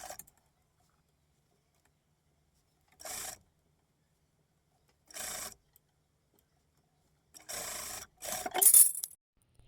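A sewing machine back-stitches a dress shoulder seam in four short, close bursts of stitching separated by quiet pauses, and the last two bursts come close together.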